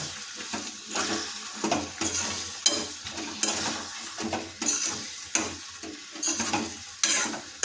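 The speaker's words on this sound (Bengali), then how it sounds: "আমরা যে তেল যোগ করেছি আমরা এটাকে কিছুক্ষণ নাড়িয়ে নেবো" Chikni greens chechki being stirred in a pan with raw mustard oil: repeated scraping strokes of a spatula over a soft sizzle, close and rhythmic, with no talking.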